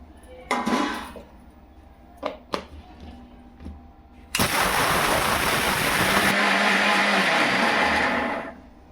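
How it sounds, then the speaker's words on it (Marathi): A kitchen mixer grinder blitzes soaked sabudana into fine flour, a loud sustained whirring roar starting abruptly after a few clinks and handling knocks, running steadily for about four seconds before cutting off. "आता थंडे झाले मिक्सरमध्ये बारीक करून घेऊ"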